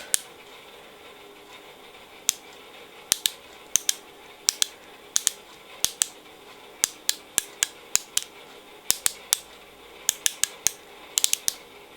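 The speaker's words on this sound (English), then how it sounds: "as I'm clicking it, the product coming up." Sharp plastic clicks from a raspberry lip glaze tube being twisted, arriving in irregular bursts and single ticks over a quiet background, close up with no voices.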